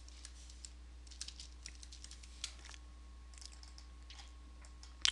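Soft typing on a computer keyboard, scattered light key clicks in short irregular bursts, close and quiet over a faint steady hum, with a louder click cluster at the very end.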